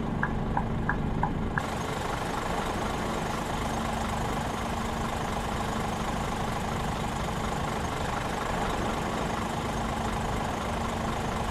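A Scania R 2009 truck engine idles in a truck simulator game, a steady, close, low diesel drone that holds unbroken throughout with no talk.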